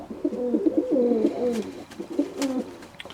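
Pet pigeons cooing in a loft, a close run of soft throaty rolling coos repeated in bursts with short pauses, fairly quiet, with faint background clicks and no talking.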